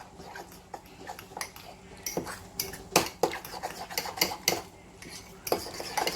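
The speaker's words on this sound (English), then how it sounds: "I'll mix all this together with a fork" Keto bread mix being stirred with a fork in a bowl, producing soft irregular scrapes and taps of metal on the dish that grow louder and busier midway, with no talking.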